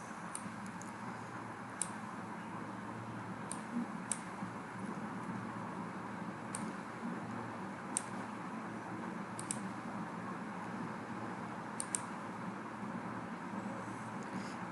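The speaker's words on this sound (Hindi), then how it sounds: "यहाँ पे क्लिक करेंगे, इंस्पेक्ट पे क्लिक करेंगे" A computer mouse clicks several times at scattered intervals, short crisp taps over a steady background hum in a quiet room.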